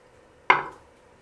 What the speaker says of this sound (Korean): 칼집을 내줄게요.